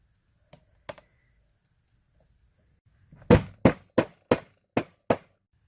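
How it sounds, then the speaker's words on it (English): Rubber mallet tapping a bushing into a spring shackle on a Jeep Cherokee XJ, two light taps followed by a quick series of six sharper blows, close and alone in a quiet space. "Little persuasion with the rubber mallet."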